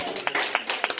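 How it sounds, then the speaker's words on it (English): A church congregation claps their hands together during a Sunday morning sermon service, a quick run of scattered claps with a voice speaking over them. "give the Lord a hand clap"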